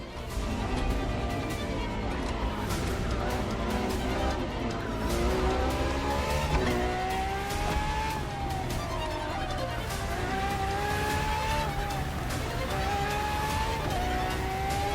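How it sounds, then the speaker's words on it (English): A Ferrari FXXK supercar races in The Crew Motorfest video game, its engine roaring steadily as the pitch climbs and drops through gear changes, with tires squealing through the corners. The sound is loud and continuous for the whole stretch, with no talking. "for this second lap, you'll be driving the FXXK"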